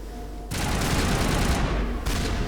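Sustained rapid gunfire from a coordinated crossfire in the Mass Effect Legendary Edition video game breaks in suddenly and roars loud and dense for about two seconds, with a brief dip midway.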